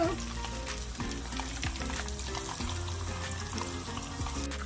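Fish fries in a pan with a continuous bright sizzle and spatter, close and steady throughout, over faint tonal background music.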